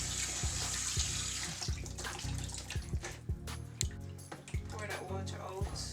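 Tap water runs over raw chicken being rinsed in a kitchen sink, a steady splashing stream broken by repeated clunks and knocks of the pieces and bowl, close and fairly quiet.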